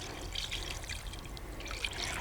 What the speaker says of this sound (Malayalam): ഇനി ബാക്കി വെള്ളവും കൂടി ചേർത്ത് കൊടുക്കാം